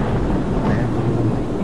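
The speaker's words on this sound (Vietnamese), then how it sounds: "Mưa rồi kìa, mưa rồi kìa." Rain falls outdoors during a stroll with a low, continuous rumble and rush, loud and steady throughout, with wind buffeting the microphone and no clear voices.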